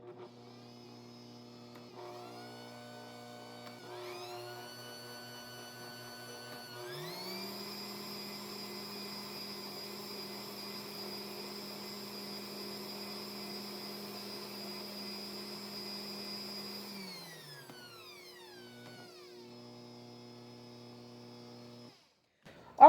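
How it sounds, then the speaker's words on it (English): An electric mixer whirs chocolate peppermint cream cheese frosting, first at a low steady hum, then stepping up to a louder, higher whine for about ten seconds before winding back down to a lower drone. No speech is heard. "So now we're just going to whir that together just for a few seconds."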